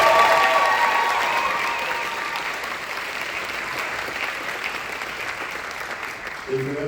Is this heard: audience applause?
yes